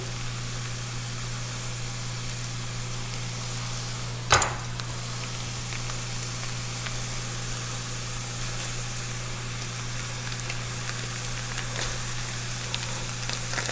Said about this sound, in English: let's get our sausage in the pan